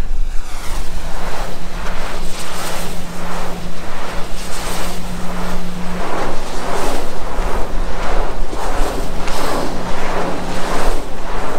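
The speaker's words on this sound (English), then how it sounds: "This is the Bremer Bay wind turbine. And we're directly underneath it." A 600 kilowatt wind turbine at Bremer Bay heard from directly beneath, its broad whooshing roar pulsing in a slow regular rhythm over a steady low hum, loud and close with strong wind noise.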